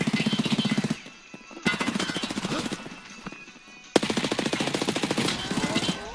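Rapid automatic fire from a juice cannon weapon in a shooter video game, loud rattling bursts with brief gaps between them, repeating in three long volleys.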